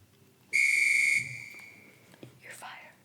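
A single loud, shrill whistle held steady for under a second, followed by a faint softer whistle and light background noise.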